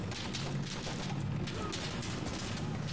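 Gunfire in the shooter game Insurgency: Sandstorm rattles on as a steady, dense barrage of distant shots beneath a constant rushing background, fairly quiet overall.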